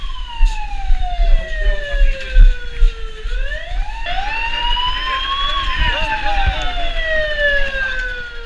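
Fire engine sirens wail loudly at a state hospital during a fire drill, one rising and falling tone sweeping through its cycle and then a second, higher siren overlapping it, close and continuous with road noise underneath.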